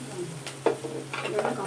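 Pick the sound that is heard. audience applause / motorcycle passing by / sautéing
sautéing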